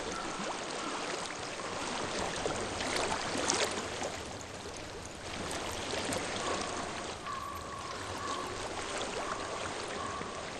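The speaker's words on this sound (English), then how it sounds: "I hear water." Flowing water in Hellblade: Senua's Sacrifice, a steady broadband stream rushing and trickling throughout, even and moderately loud with no voices.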